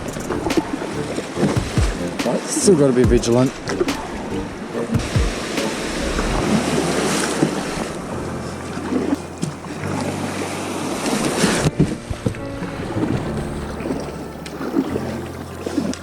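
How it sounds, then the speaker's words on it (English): Small ocean swells wash around a fishing kayak on a coastal paddle, a steady watery rush mixed with wind buffeting the microphone, while someone speaks briefly over it. "Couple of little teeny tiny little waves are coming through"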